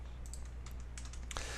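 Computer keyboard keys tapped in a few quick, irregular clicks, close and crisp, ending with a slightly heavier keystroke.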